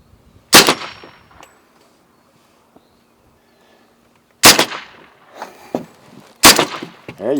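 Three sharp, loud gunshots at a shooting range with steel targets, the first alone and the last two close together, each with a ringing metallic tail and ambient quiet between.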